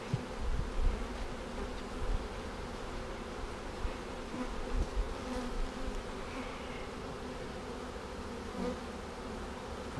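Honey bees in a package bee hive give a steady low buzzing hum that fills the whole stretch, close and moderately loud, with faint handling bumps underneath and no talking.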